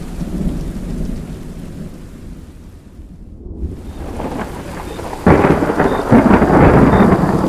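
Heavy rain pours steadily while thunder rumbles low; the storm dips quieter midway, then a loud crack of thunder bursts in and the downpour swells, close and continuous.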